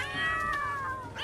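Two aggressive cats fighting in The Sims 3, heard as a single drawn-out, wavering meow-yowl that slides downward over about a second, close and fairly clear.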